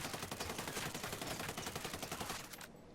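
Suppressed FAL rifle fire in Ghost Recon Wildlands, a dense, continuous string of muffled rapid shots that runs for a few seconds and cuts off abruptly.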